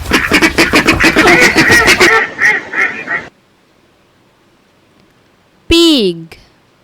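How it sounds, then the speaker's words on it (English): A duck at a pond quacks loudly and close in a rapid run of harsh calls that trail off after a few seconds, followed by a pause and one short, falling voice-like call near the end. "Duck,"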